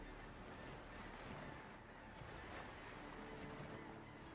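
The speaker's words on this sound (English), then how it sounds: "It's got big waves and stuff" Big ocean waves wash and roar steadily around a sailing ship in the Windrose video game, a dense, continuous surf hiss with wind and no talk.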